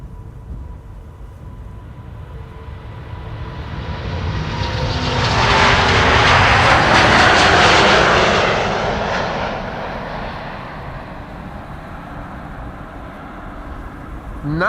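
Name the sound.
Airbus A350-900 jet taking off, flight to Istanbul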